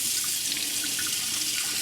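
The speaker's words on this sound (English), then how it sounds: "What I'll do now is add really super hot water" Very hot tap water gushes steadily into a cast iron skillet, a close, continuous splashing rush with no pauses.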